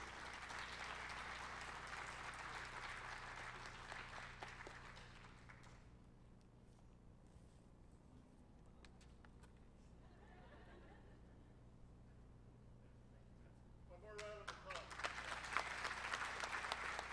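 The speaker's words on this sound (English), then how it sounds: "Let's all give them one more round of applause." A graduation audience applauds Winnebago Tribe of Nebraska and Lincoln High School scholarship recipients at an Indian Education ceremony. Dense clapping fills the hall for about six seconds, then the room settles into quiet murmuring before a fresh burst of applause starts near the end.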